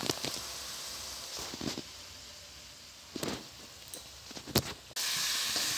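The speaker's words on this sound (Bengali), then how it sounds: "তাই একটু কমিয়ে দিয়ে পানির মতো মশলাটাকে ভাজতে দিতে হবে" Watery spice paste frying gently over a lowered gas flame, giving a steady soft sizzle and hiss with a few brief scraping stir sounds, then a brighter burst of sizzle near the end.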